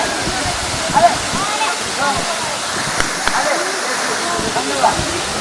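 Phung Phung waterfall at Ranipauwa in Nuwakot, Nepal, rushes in a steady broadband roar, with voices of people nearby talking over it.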